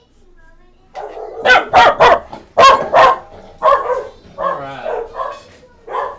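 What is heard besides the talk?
dog barking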